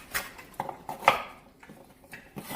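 A knife chops cut potatoes for vegetable beef soup, giving a few scattered sharp knocks and clatters of metal against the board, with short gaps between them.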